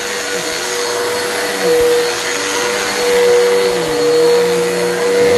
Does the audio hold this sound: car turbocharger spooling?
no